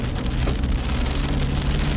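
Hail pelts a moving car on a road, making a dense, steady drumming hiss across the body and windscreen with a low engine rumble underneath. The sound stays loud and continuous throughout.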